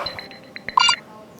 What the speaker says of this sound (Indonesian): Sebentar Bu, ada telepon.